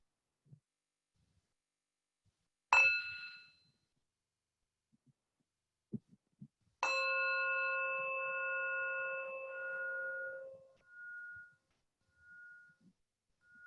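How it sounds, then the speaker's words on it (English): Meditation bell struck twice: a first short ring, then a second strike whose bright harmonic tones sustain and slowly fade over several seconds, alone in near silence with a few soft thumps between. "And I will invite a bell, a sound of a meditation bell"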